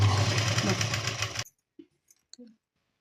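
A sewing machine top-stitches a lined, folded fabric border with a close, steady whirring run that lasts about a second and a half, then stops abruptly, leaving only a few faint clicks.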